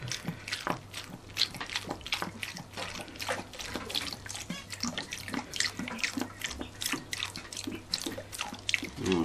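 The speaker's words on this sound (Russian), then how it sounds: "И прямо заливаем наши яйца." Soy sauce poured over quail eggs being marinated, a continuous trickling liquid pour with small splashes and glugs, close and steady, with no talk.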